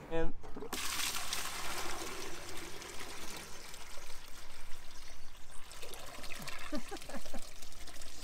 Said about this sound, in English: Let's settle this long-standing debate about which direction water spins.